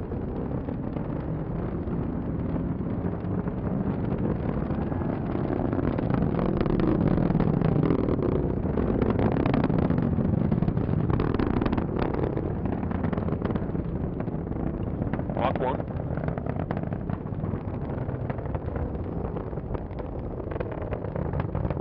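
An Atlas V rocket engine roars during launch, a dense, continuous low rumble with crackling texture, sustained at steady loudness for over twenty seconds, distant yet powerful and without voices.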